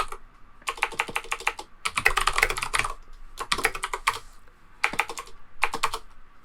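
Rapid bursts of typing on a computer keyboard, several clattering runs of keystrokes separated by brief pauses, close and clear with no talking.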